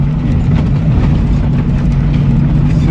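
A loud, deep engine of a custom ZAZ car rumbles steadily throughout, with a strong low-end drone and slight fluctuations as the car drives through Kyiv streets.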